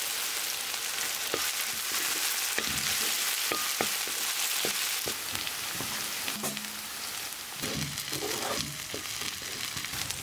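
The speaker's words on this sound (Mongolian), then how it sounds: "Пастага бас шарна." Paste sizzles and fries steadily in a pan over a wood fire in a Mongolian yurt, with clinks and stirring scrapes of a utensil scattered throughout.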